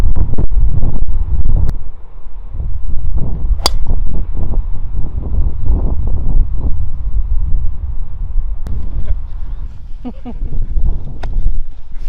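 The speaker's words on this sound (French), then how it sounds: "le vent est de gauche à droite" Strong wind buffeting the microphone on a golf course, a loud low rumble that gusts steadily throughout, with faint thin whistles and brief clicks.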